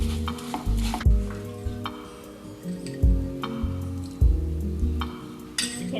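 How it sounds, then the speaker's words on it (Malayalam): Wheat rava kesari being stirred in ghee in a pan over a low flame, with repeated scraping and clinking strokes of a spoon against the metal and a faint sizzle underneath, loud and close. "നമ്മൾ ഇടയ്ക്കിടയ്ക്ക് കുറച്ച് നെയ്യ് ഒഴിച്ചു കൊടുത്ത് ഇതിങ്ങനെ വരട്ടിക്കൊണ്ടിരിക്കണം"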